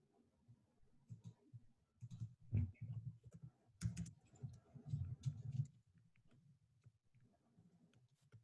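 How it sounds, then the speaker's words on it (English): Someone types on a computer keyboard, tapping in quick irregular bursts with short pauses. The clicks are faint and close, with no talk over them. "Or I assume you're typing furiously."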